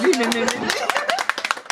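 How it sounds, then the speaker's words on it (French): A person talks while a few sharp hand claps break in near the end, quick close slaps mixed under the speech. "j'ai envie d'applaudir"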